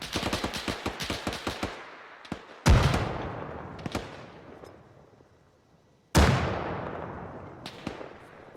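Rapid automatic gunfire rattles in Arma 3 before a grenade blast booms close, followed by scattered shots and a second loud explosion rolling off into a long decaying rumble.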